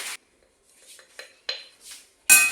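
Spice powders, including chili, turmeric and pepper for a Kerala pork curry, are stirred in a pot: a few separate scrapes and clinks of a metal spoon against the pot, with quiet gaps between.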